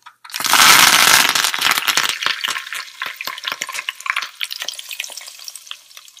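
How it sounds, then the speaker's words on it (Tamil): Mustard seeds hit hot coconut oil for avial, starting with a loud burst of sizzling that settles into scattered sharp pops and crackles, close up, with no talking. "நம்ம கடுகு வெடிக்கும்போது நம்ம ஸ்டவ் ஆஃப் பண்ணி இதில் கருவேப்பிலை போட்டு"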